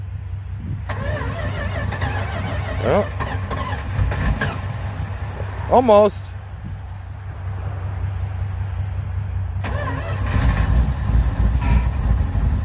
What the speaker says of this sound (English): Looks like Dad here wants to try to start the truck. Let's see if this one kicks over.